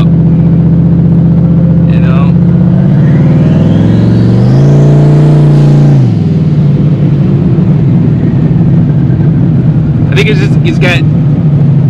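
A turbocharged Ford Mustang engine revs hard, bogs and loads up, its pitch rising and falling through one long labored rev before dropping back to a rough drone. Loud and close, with brief talk over it.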